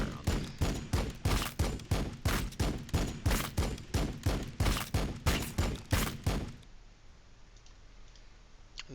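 Gunfire from units in Warhammer 40k Battlesector, a steady rhythmic string of sharp repeated shots at even intervals, clear and fairly near, stopping abruptly and leaving faint background ambience.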